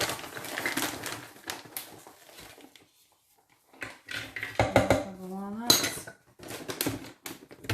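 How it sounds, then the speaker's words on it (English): Walnuts poured into a measuring cup while making raw vegan brownies: bursts of hard clattering and rattling against the cup, with a short quiet gap midway and a faint squeak before more pouring. "Okay, so here's half a cup of walnuts."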